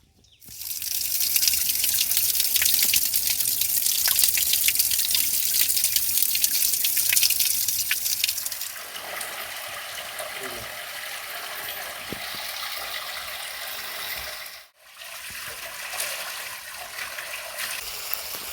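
Water runs steadily at a hillside Shiva temple, a loud continuous splashing flow for about eight seconds, then softer and steadier, briefly cutting out near the end before resuming.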